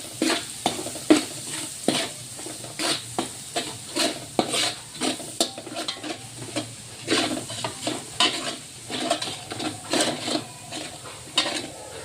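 Masala fries and sizzles in a pan with a steady hiss while a spoon scrapes and stirs it in rhythmic strokes, clinking against the metal again and again. It is close and clear, with no talking.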